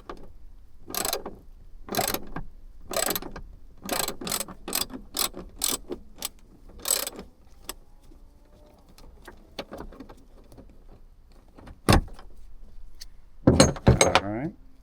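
A ratchet clicks in quick bursts while loosening the bolt on a rear hatch support strut of an LTJunk SS, with pauses, a sharp clank, and someone talking near the end.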